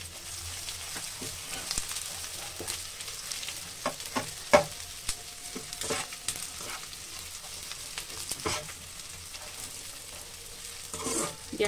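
Corn frying in hot oil in a home kitchen gives a soft, continuous sizzle with scattered crackles and sharper pops, heard up close with no one talking.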